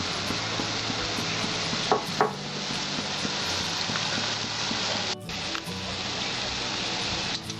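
Pea lentil fritters (motor daler bora) fry in hot oil with a dense, steady close sizzle and crackle, a few clattering spatula knocks breaking through as they are turned.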